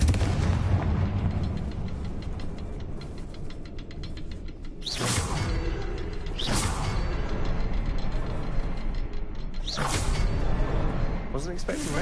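Fiery Confringo explosion spells go off in a Harry Potter video game, several sharp booming bursts spaced a second or more apart over a dense, rumbling game soundscape.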